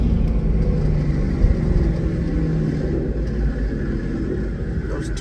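Cammed twin-turbo Ford GT500 downshifting on the street, a steady low rumbling drone heard from inside the car, fairly loud with no distinct blips standing out.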